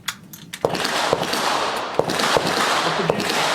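Gunshots from a Mosin Nagant rifle chambered in 7.62x54R, fired with handloaded development ammunition, ring out as a few sharp reports over a steady wash of outdoor noise and wind, with no one speaking.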